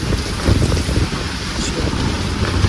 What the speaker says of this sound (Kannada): ಇಲ್ಲಿ ನೋಡಿ ಎಷ್ಟು ಹೊಡಿತಾ ಇದೆ ಮಳೆ